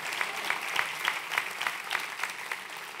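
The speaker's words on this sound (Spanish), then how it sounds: "Dale el aplauso más fuerte a la palabra." A church congregation claps in a soft, fairly distant rhythmic patter, roughly three or four claps per second, with a faint murmur of voices behind it.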